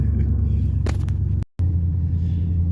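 A vehicle engine starts with a brief mechanical burst, then settles into a steady low rumble close by, interrupted once by a short gap of silence before the idle continues.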